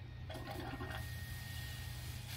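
Water rushes through an RV sewer hose as it is rinsed out at a dump station, a steady close-up gush with a faint constant hum underneath.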